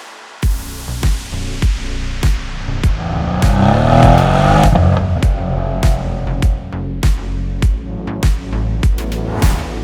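A 2020 Mercedes C63 AMG S V8 rumbles and swells as it accelerates, punctuated by sharp repeated bangs and pops, close and loud with no speech.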